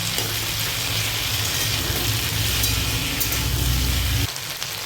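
Chopped tomato hitting hot oil with onion, salt and turmeric for a taro curry, a loud, even hiss of frying that holds steady, then drops a little near the end, with no talking.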